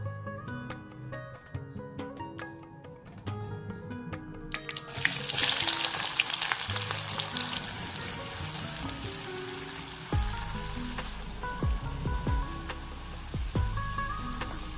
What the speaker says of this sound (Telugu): కొత్తిమీర, కరివేపాకును తేమ పోయే విధంగా దోరగా వేయించుకోవాలి.